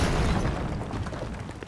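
Explosion in the video game Zelda: Tears of the Kingdom, a loud, dense rumbling blast that fills the clip from the start and slowly thins out, with no talking over it.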